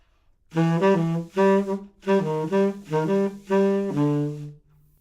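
A short jazz solo phrase on a single wind instrument, played alone in a few connected legato bursts with brief breaths.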